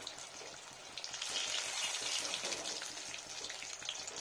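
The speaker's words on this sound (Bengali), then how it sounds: "বেশ একটু কড়া করে ভেজে নিই" Fresh mint leaves crackle and sizzle softly in hot oil, a quiet continuous frying hiss with faint bubbling that swells slightly midway.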